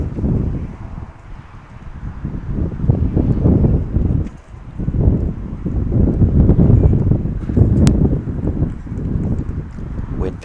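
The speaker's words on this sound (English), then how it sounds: "Wind picks up again here at the Robert Linehan field" Wind gusts across an outdoor baseball field during a 16U girls' game, buffeting the microphone in loud, swelling rushes that rise and fall throughout, with a commentator's voice and faint field sounds mixed in.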